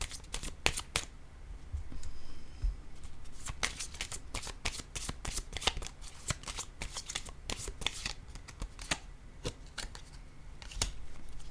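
Tarot-style cards are shuffled over and over for a card reading, a dense run of crisp riffling flicks and slaps close up, continuing without speech.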